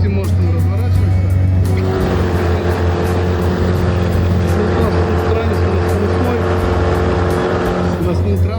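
Motor boat with a 9.8 or 18 hp outboard turning in shallow water, a loud close steady engine drone with a rising hum as it swings around, water rushing underneath and someone talking over it.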